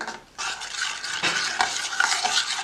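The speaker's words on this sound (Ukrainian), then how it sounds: "Тепер я беру сік апельсини, вливаю сюди, гарно перемішую" A spoon stirs orange juice syrup in a pot, a steady scraping swish with faint bubbling, continuous for a few seconds with no talking.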